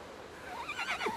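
A horse in the Windstorm horse video game gives a short, rising and falling neigh, fairly close and clear over a quiet background.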